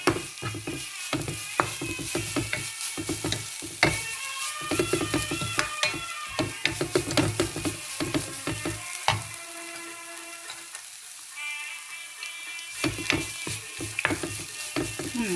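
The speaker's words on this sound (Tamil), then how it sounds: "பாருங்க, ஒருக்கா இப்படி கிளறி விட்டுட்டு திருப்பி மூடி விடணும்." Beetroot stir-fry stirred in a pan, with a steady frying sizzle under repeated scraping and clinking strokes of the spoon, pausing briefly toward the end before the stirring resumes.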